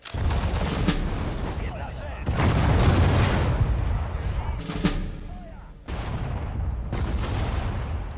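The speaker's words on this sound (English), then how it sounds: "Oh boy, we're getting shelled." Artillery shells boom and crash in the WWII strategy game Sudden Strike 4 at the Battle of Kursk, several heavy impacts with rumbling tails layered over a dense battle din, with game voices in the mix.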